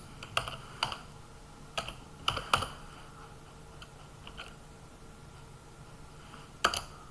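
Keys tapped on a computer keyboard while entering Python code, sparse clicks in short bursts with pauses between, close and fairly quiet.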